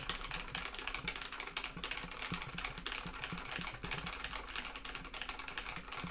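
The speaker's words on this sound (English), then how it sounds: "I'm just literally gonna mash a bunch of keys and then just let you guys hear it" A computer keyboard mashed continuously, recorded on a Rode PodMic through a Cloudlifter and Focusrite Scarlett Solo, with dense, rapid clacking of many keys in an irregular stream, close and fairly quiet.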